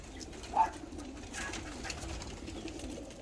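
A single soft pigeon coo rises briefly near the start over a low, steady background hum; no voices.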